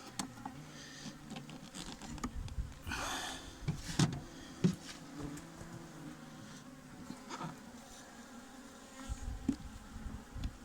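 Honeybees hum inside an opened hive during an autumn check of colony stores, a low steady buzz with individual bees droning close by and occasional wooden frame knocks, no talk.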